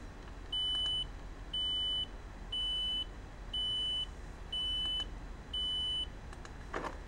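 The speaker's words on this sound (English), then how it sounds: "If a row unit drops below a user-defined threshold, the top bar turns red, an audible alarm sounds with an error message" Kinze SeedCommand planter monitor sounding its audible alarm: six evenly spaced, high electronic beeps, each lasting about half a second, over a faint steady background hum.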